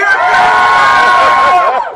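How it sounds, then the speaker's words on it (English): A live audience at a podcast taping at Dragon Con cheers loudly for Kefka, a dense, sustained wall of whoops and shouts that fades toward the end. "Kefka has a much louder support base"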